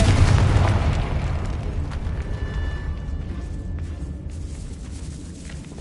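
A Confringo blasting spell goes off in the video game Hogwarts Legacy: a loud, booming blast that hits at once and rumbles down into a fading tail, with no talk over it.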